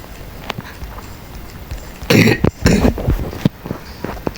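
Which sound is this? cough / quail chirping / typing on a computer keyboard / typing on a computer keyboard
cough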